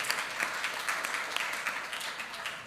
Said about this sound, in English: Absolutely, applause is due.